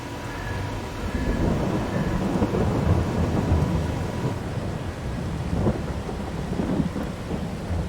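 Steady rain and a rolling thunderstorm in the farming video game Farming Simulator 22, a dense continuous wash of downpour with low rumbling thunder swelling throughout and no talk.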